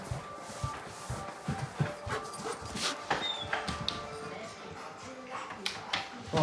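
A dog pants and whimpers close by in short, uneven bursts, with restless rustling around it and no clear talk.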